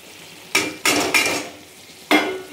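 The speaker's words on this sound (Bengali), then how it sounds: "এবার একটু ভালো করে নাড়িয়ে নিই।" Mango pickle mixed with roasted spice powder is stirred in a container, giving several distinct scraping and clattering bursts separated by short pauses.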